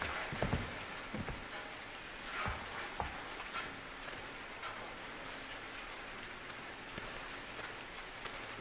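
Soft, steady rainfall in the horror video game Outlast 2, a blood rain under a moonlit sky, patters quietly with a few dull knocks and splashes near the start and no voices.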